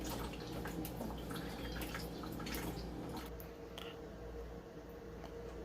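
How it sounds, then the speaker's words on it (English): Pineapple ginger juice strained through a coarse strainer, with liquid dripping and trickling in a steady wet patter alongside soft handling noises. "the strain out juice. Looking good. You want to get all the liquid out of it."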